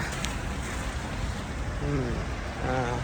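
Heavy rain pouring in Kuwait makes a steady, dense broadband hiss that runs the whole time, with brief faint voice-like tones near the end.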